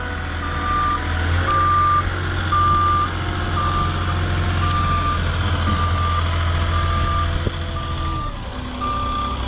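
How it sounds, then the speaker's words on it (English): A Moffett truck-mounted forklift reverses onto a trailer, its backup alarm beeping in a steady repeating rhythm over a loud diesel engine rumble, with no one speaking. "we're gonna just get the Moffett back on the trailer"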